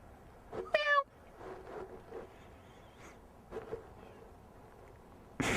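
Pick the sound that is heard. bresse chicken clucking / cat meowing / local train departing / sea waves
cat meowing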